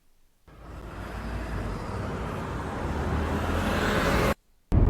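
An Audi car in Monaco passes by, a rising whoosh of engine and tyre noise that swells steadily and then cuts off abruptly.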